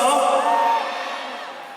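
Concert crowd at a god show in an Olympic gymnastics arena, a loud burst of whooping and shouting that trails off, with voices mixed in.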